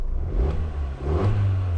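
Car fitted with an aftermarket performance pod air filter, its engine catching and revving up close with a rising mid-range roar and a brief dip before settling into a strong idle.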